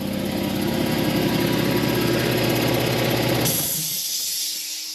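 An air compressor runs loud and steady in a home garage during rust repair on a 1970 Pontiac GTO, a continuous hissing, whirring motor drone that abruptly cuts off near the end, leaving a short fading hiss.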